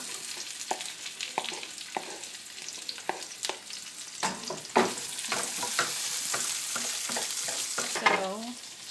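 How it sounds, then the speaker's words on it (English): Lomo saltado ingredients tossed into hot oil in a pan, sizzling and frying loudly with repeated scraping and stirring clatters, no talking. "it's about to sizzle, so I'm just going to throw everything in there now."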